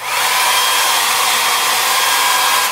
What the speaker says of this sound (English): I'm going to use my trusted inherited hair dryer